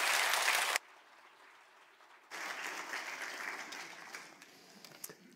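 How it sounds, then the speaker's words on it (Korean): Church congregation at a Korean church in Orange County applauding to welcome a missionary speaker, a burst of clapping that cuts off, then resumes more softly and fades. "우리 뜨거운 박수로 한번 환영해 주시면 감사하겠습니다."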